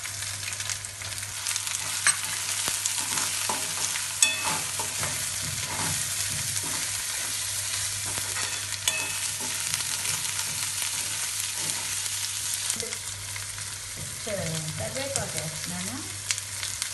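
Prawns fry in oil with garlic paste and turmeric for a tamarind-leaf curry, a steady close sizzle with occasional stirring scrapes and clinks, growing busier toward the end, heard alone without speech.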